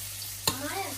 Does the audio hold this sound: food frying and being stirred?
yes